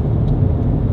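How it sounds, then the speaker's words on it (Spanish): A car accelerates hard while merging from a motorway slip road, its engine a steady, close, low roar heard from inside the cabin for the whole second. "aceleramos fuerte"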